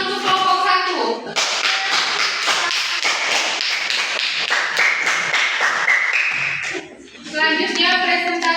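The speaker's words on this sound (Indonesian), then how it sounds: "tepuk tangan untuk kelompok 1" Classmates applaud a presenting group during a school lesson, a burst of close, brisk clapping that runs for several seconds between stretches of children talking.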